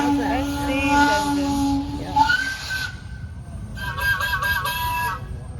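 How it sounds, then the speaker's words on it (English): A steam whistle sounds at a steam and gas engine show in the Shenandoah Valley, a loud sustained tonal blast with shifting pitch, followed by shorter pulsed toots near the end over outdoor crowd noise. "We're going to do a new steam whistle"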